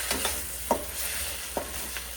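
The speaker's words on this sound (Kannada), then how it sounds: "ಪಾತ್ರೆ ಬಿದ್ದೋಗುತ್ತೆ ನೋಡಿ ನಾನು ತಿರ್ಗ್ಸೋಕೋದ್ರೆ." Egg rice is stirred in a frying pan, a handful of quiet scraping strokes of a spatula over a faint, steady sizzle, with no talking.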